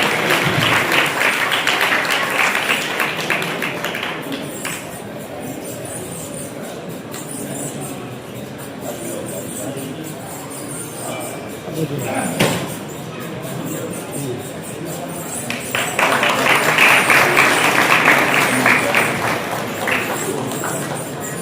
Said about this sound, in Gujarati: આપણે તાળીઓ પાડજો.